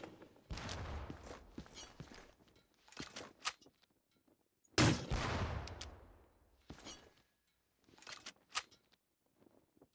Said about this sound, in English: So this is the grenade launcher.